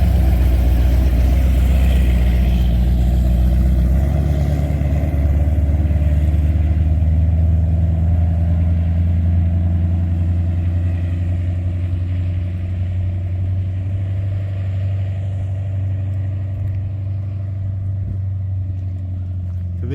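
A project car's engine runs steadily and loud throughout, a deep low rumble with a faint rise early on and an even idle-like drone after, with no voices.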